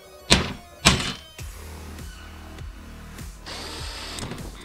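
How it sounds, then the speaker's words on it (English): Two sharp thunks, then a power drill whirs in short repeated bursts, biting into a metal panel plate at close range to make holes for DIN rail. "then drill out the holes for the DIN rail"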